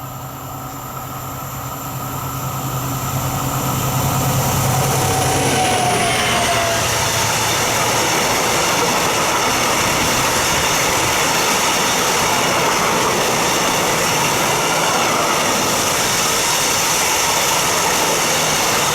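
A loaded freight train runs past on the line near PK 87 at Toury, a steady broad rumble and rail clatter that swells over the first few seconds and then holds loud and close, with a fading horn-like tone early on.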